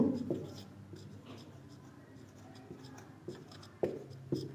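A pen scratches across paper while working a class 9 maths exponent problem, with faint close strokes and a few sharper taps, soft and intimate with a quiet room behind.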